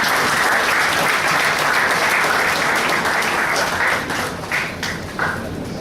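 An audience at a college inauguration event applauds loudly and steadily to welcome a speaker, with the clapping easing slightly toward the end.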